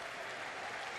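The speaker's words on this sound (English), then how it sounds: "Colby will get a nice round of applause." A crowd at a college men's basketball game between Indiana State and Western Kentucky applauds a player, a brief steady wash of clapping throughout.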